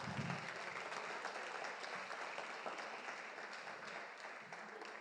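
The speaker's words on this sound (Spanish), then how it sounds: "les podéis dar un aplauso" Theatre audience applauding steadily for five seconds, a dense wash of clapping at moderate loudness with no voices standing out.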